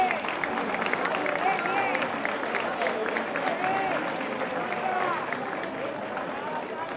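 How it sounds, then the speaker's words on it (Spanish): A crowd at a village festival gives loud, dense applause that continues steadily throughout, mixed with voices and general hubbub. "un fortísimo aplauso para todos vosotros"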